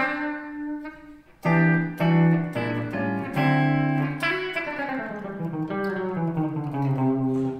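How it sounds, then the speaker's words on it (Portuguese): Clean electric guitar played straight into an amplifier with no effects: after a quiet start, a run of ringing notes and chords with slides between pitches, each sustaining and decaying, fairly loud and alone. "Isso é o som da guitarra sem nada."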